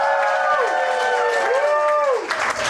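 Audience at a comedy-style Genius Night show cheering and whooping in a loud, sustained crowd roar with rising and falling yells, close and dense rather than crisp claps.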